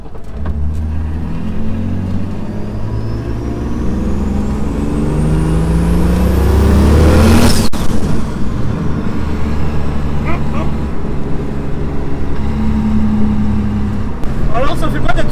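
A car engine revs hard in hot weather and climbs to a loud, straining peak, then drops back and keeps roaring; people talk faintly underneath.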